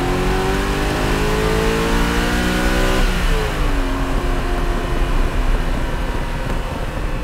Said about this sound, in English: Eight throttles, snapping open, and away you go.